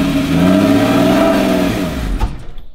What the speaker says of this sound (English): he has to give it a few revs just to keep it alive. Otherwise, it's gonna die, but go ahead and start it up